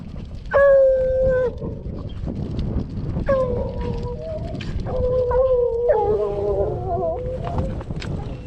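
Hunting dogs bay and howl on a dry desert trail while tracking a mountain lion, long drawn-out cries rising and falling in several overlapping bursts over rustling ground noise.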